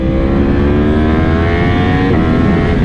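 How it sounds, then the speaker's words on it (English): Yamaha R1M sport motorcycle at speed, its engine a loud steady roar with harmonic whine, then a brief drop and pop near the end as it downshifts, with wind noise throughout and no talking. "Let me see if you can hear this downshift here. That boom."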